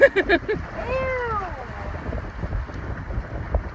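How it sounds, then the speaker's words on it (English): Wind blowing in off the bay at a crabbing spot buffets the microphone with low, gusty rumbles, while a brief descending whistle-like tone cuts through early on. "the wind's coming in off the bay where we're standing right now"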